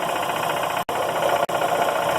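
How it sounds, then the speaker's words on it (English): An Emglo K15A-8P air compressor idling, with its head unloaded by the pilot valve, drones in a loud, steady mechanical hum that cuts out for two very short gaps. "the air compressor, the pilot valve pressurized the head on the air compressor, and it is now in an idle mode"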